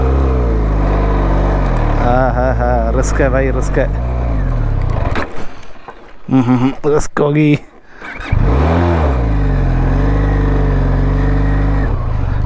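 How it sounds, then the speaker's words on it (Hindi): A car revs and labours while driving off-road across the red sand desert on the way to Dhanushkodi, its engine rising and falling through the clip beneath someone talking loudly up close. "थोड़ा सा ना ऑफ रोडिंग करके देखता हूँ इस"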